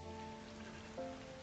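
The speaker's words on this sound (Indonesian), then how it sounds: "Malam hujan." Rain falling at night, a brief, soft, steady patter of raindrops on a surface, faint and uninterrupted.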